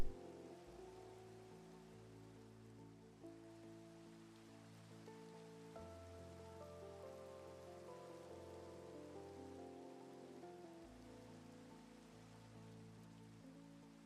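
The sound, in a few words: rain falling in Minecraft video game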